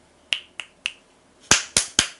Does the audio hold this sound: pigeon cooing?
no